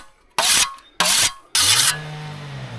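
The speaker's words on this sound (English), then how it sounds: "Got myself a little bit of sharpening stone." A sharpening stone is drawn across a metal blade edge in three quick, harsh rasping strokes, close and loud, separated by brief pauses, before a low engine-like hum lingers.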